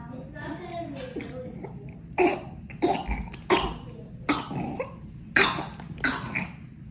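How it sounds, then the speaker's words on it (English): A child coughs repeatedly in harsh, barking bursts, close and loud, with some brief speech at the start. "Hers is like a bark when she coughs."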